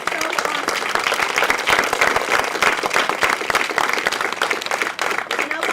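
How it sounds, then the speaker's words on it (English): An audience gives steady, even applause after a play about life in Newgate prison, dense and sustained at a moderate level, with some talking faintly beneath it. "if we could just give them a round of applause before the end"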